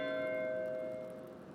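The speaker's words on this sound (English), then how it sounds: "That's the bell for Sext." An abbey bell rings for Sext in the video game Pentiment, a single sustained metallic toll with a long, slowly fading resonance, fairly quiet and alone.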